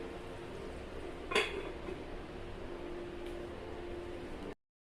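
A single clink as a lid is set on a cooking pot of chicken gravy curry, a short metallic knock over a steady background hum with no voices.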